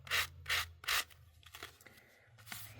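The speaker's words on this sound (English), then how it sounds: "I'm just going to sand this down a little bit and bring out the detail." An old sanding block rubbed by hand over a craft piece, three strong back-and-forth scrapes followed by softer, lighter strokes; close and quiet, with no voices.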